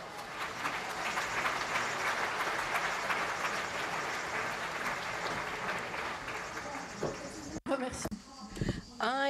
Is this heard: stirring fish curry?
no